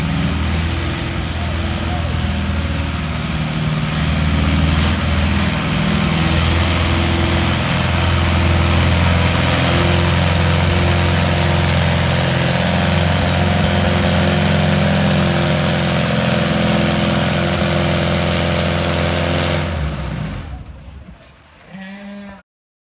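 Farmall tractor engine pulling at a county fair tractor pull, a loud steady roar with deep low rumble held for about twenty seconds before cutting off abruptly, with crowd and announcer noise blended underneath.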